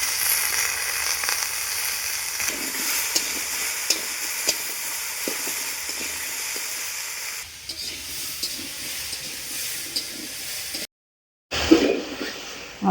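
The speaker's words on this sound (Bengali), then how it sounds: "আর সব সবজিগুলো ভাজা হয়ে গেছে" Mixed vegetables, including yardlong beans with turmeric powder, sizzling in a hot pan for vegetable khichuri: a steady close hiss with occasional stirring scrapes and taps, a short drop-out near the end, and no talk.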